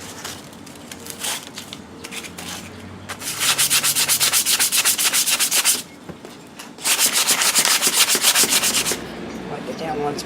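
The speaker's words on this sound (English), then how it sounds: "Got a little 220 grit sandpaper here." A metal Kisco fan being sanded by hand with 220 grit sandpaper, loud rapid back-and-forth scratching strokes in two long sustained bursts with quieter rubbing between, close up and without speech.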